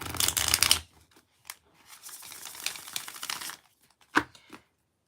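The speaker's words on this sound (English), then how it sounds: "I'm just fecking up my riffle shuffling here" Playing cards riffle shuffled by hand, several crisp fluttering bursts separated by pauses, close and alone.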